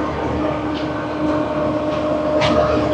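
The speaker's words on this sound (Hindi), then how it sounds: "5 अप ग्रीन लाइन का आज हमारा लोकोमोटिव है GU 49037" Green Line express train hauled by locomotive GU 49037 in Pakistan gives a steady, loud rolling rumble that continues throughout without a break.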